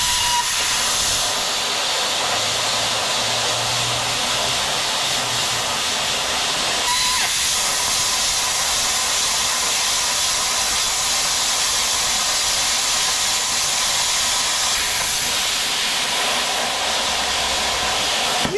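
A Yeswelder plasma torch cuts through metal with a loud, continuous broadband hiss that holds steady for the whole stretch, rough and airy with no talk over it.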